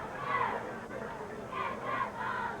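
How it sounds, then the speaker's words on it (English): The crowd at a high school football game between Arab and Guntersville roars in repeated swelling bursts, loud and full, with some talk mixed in. "Big crowd, big ball game."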